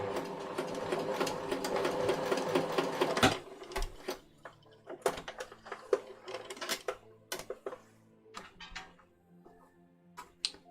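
A sewing machine runs a wide zigzag stitch in a steady burst for about three seconds, then gives short stop-start bursts with clicks and handling noises. It is fairly quiet and close, with no talking.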